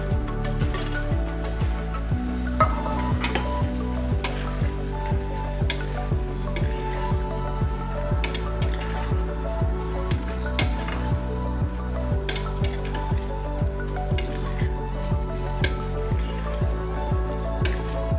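Mushrooms sizzle steadily in a pan for mushroom biryani while a spoon scrapes and stirs in a regular, repeated rhythm of close metallic strokes.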